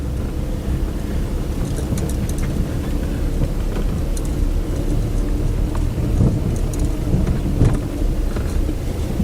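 Steady rain hisses and patters on a car driving a wet road, a constant broadband wash with a low road rumble and scattered sharper drops and splashes.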